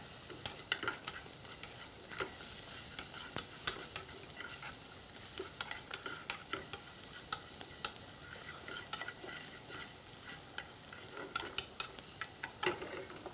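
Cut plant-based ingredients are stir-fried in a pan, giving a steady soft sizzle broken by frequent sharp scrapes and clacks of the stirring utensil against the metal, close up and with no voices.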